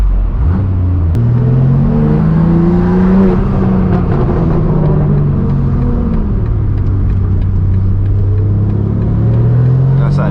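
A straight-piped BMW M4 G82 with a full titanium exhaust accelerates hard, its loud, raspy engine note climbing through gears and then settling, close up, with a faint voice underneath.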